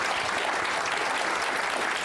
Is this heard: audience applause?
yes